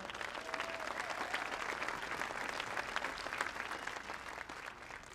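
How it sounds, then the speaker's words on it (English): Steady applause from a large crowd, dense clapping that fills the whole stretch at an even, moderate level without any voices on top. "Please give Chris Leonard a round of applause as well"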